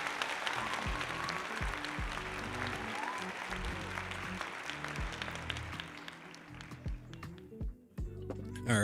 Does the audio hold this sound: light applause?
yes